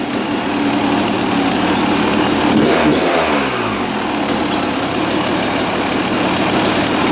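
A two-stroke dirt bike engine runs loud and close with a buzzy, high-pitched rattle, briefly dipping and rising in pitch midway before settling back to a steady idle.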